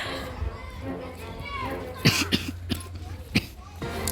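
A few sharp coughs cut through a background of low chatter and murmuring voices during Brawl Stars gameplay, spaced irregularly over several seconds.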